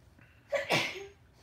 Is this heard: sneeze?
yes